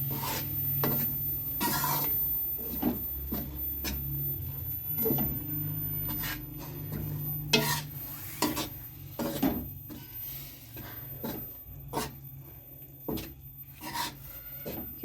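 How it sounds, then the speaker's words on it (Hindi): Gram flour roasting in oil for besan barfi, with a quiet scraping of the spoon repeated in a steady rhythm over a low background hum. "अब ऑयल में डालेंगे और इसको अच्छी तरह भूनना है।"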